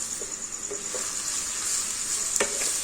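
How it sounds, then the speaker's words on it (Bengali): Capsicum, garlic and chili fry in a pan over raised heat, giving a steady close sizzle with a few soft stirring scrapes and clicks. "তারপরের মধ্যে আস্তে আস্তে ক্যাপসিকাম, রসুন আর লঙ্কাটা দিয়ে দেবো।"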